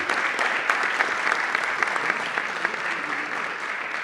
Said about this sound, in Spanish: Fuerte aplauso para Abel.